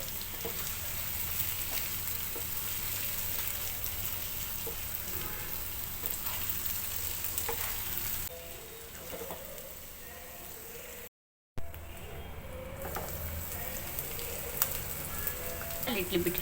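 Eggs frying in a tomato and onion masala for a Kerala style egg fry, a soft continuous sizzle from the pan with a short break midway.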